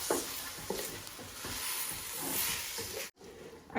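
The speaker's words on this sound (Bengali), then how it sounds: "যত সময় বিরান হয়েছে না ততক্ষণ পর্যন্ত মোলান সুন্দর করি আস্তে আস্তে নাড়াচাড়া করবা" Onions and rice fry together in a pan for pulao, stirred slowly so a soft sizzle runs under repeated scraping strokes, fairly quiet and close, cut by a brief gap near the end.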